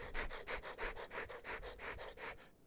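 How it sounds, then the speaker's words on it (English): Faint, rhythmic scratching and scurrying of a squirrel on wooden garage rafters, like small claws on wood, repeating in quick bursts about every third of a second. "that is the sound of the squirrel in the rafters"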